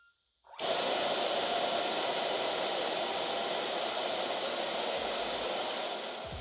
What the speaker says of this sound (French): sa création fonctionne avec un moteur sur batterie auquel il a rajouté une sorte de pale imprimée en 3D